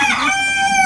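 A rooster crows loudly and close by in one sustained, wavering call that fills the whole second, set among a loft of pigeons including brown barless birds.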